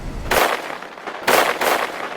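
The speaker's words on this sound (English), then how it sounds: "Then these gunshots go off." Gunshots in an animated knockoff of Cars crack out as sharp, loud bursts, about four in two quick pairs, echoing with a booming, artillery-like weight.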